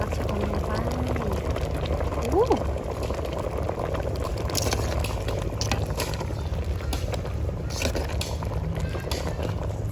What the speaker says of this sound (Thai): เดือดแล้วจ้าบัดนี้